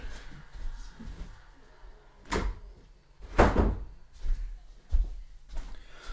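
Indoor room door handled and shut, a few soft thumps and knocks spread over several seconds, fairly quiet with no talking.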